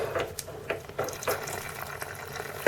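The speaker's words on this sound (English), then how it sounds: "So water's going to shoot out here in a second a little bit." Water hisses and splashes steadily from a household tap opened up while a dripping washer is being fixed, a close, continuous spray with uneven spurts.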